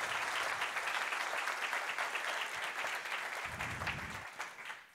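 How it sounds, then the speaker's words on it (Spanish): A crowd at a live event gives sustained, fairly loud applause for the organizers, a dense, even wash of clapping that tapers slightly toward the end. "que le demos un fuerte aplauso a los organizadores de este precioso evento"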